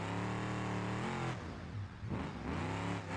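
Off-road race truck engine in a BeamNG desert Baja race, revving hard with rising tone, dipping briefly as the throttle lifts before roaring back up, close and loud.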